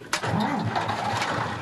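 A car engine catches after earlier failed attempts to start, a sudden onset that settles into a steady running rumble, close and fairly loud.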